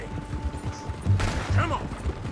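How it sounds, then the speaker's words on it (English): Gunfire in Red Dead Redemption 2 during a standoff with the United States Army: a couple of sharp, heavy shots about half a second apart over low rumbling game ambience, with speech nearby. "Shoot that bastard already"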